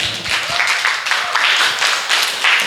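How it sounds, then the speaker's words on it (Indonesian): A crowd claps steadily, dense applause filling the room at close range with no voices on top. "Tepuk tangan untuk kita semua."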